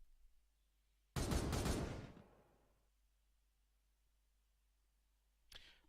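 A burst of gunfire from the video game Regicide 40K: one loud, dense volley lasting about a second, then a decaying tail, with a second burst starting at the very end.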